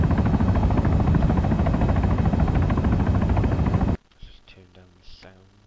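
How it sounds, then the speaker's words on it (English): Helicopter in the video game Arma 3 gives a loud, steady rotor thrum with rapid blade chop for about four seconds, then cuts off abruptly, leaving quiet game sounds and someone talking. "it actually feels like a helicopter"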